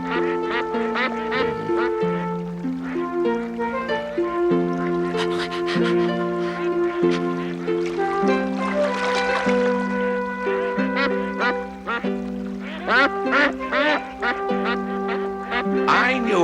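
Cartoon geese honking and quacking in a lively stream of calls, layered over orchestral music with a talking voice now and then.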